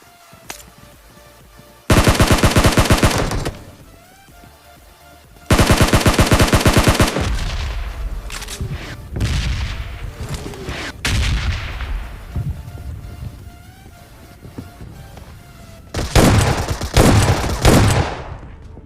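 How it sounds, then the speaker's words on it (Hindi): Shotgun blasts ring out in the battle royale game PUBG Mobile, several loud bursts of rapid booming reports separated by quieter gaps with gear and footstep sounds, and a final flurry near the end. "अभी तक हम शॉर्ट गन पे शॉर्ट गन ही चला रहे हैं"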